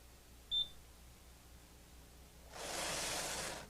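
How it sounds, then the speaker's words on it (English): Brother KH-930 electronic knitting machine buzzer gives one short, clear beep, followed later by a burst of broadband rustling noise in a quiet room. "When the buzzer sounds 1 row before finishing the pattern with row number 40 flashing"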